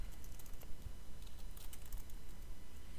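Soft, quick key taps on a computer keyboard, an irregular patter of clicks at moderate distance over faint room noise, with no talking.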